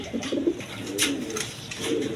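Pigeons coo nearby in soft, repeated throaty rolls, steady and moderately loud with no one talking.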